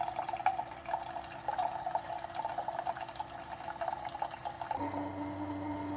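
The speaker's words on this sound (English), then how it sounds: "it's brewing that fresh water and descaling solution" Keurig K-Mini Plus single-serve coffee maker brewing fresh water mixed with descaling solution, giving a steady close trickle and gurgle of liquid pouring into a cup, shifting to a lower hum near the end.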